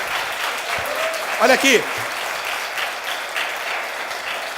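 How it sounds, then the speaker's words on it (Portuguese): A congregation applauds during a church conference on the power of the Holy Spirit. The clapping is a steady wash of many hands, and a loud voice briefly calls out over it partway through. "Esse Jesus aí da sua Bíblia merece uma salva de palmas, sim ou não?"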